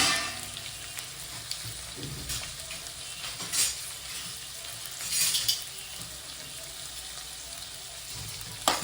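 Chopped onions and green chilies frying in oil while being tossed back and forth. Close, steady sizzle with a few louder stirring scrapes, some faint water-like splashing, and no speech.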